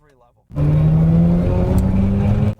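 A Mazda sports car accelerates hard, the engine note climbing loud and close for about two seconds before cutting off abruptly.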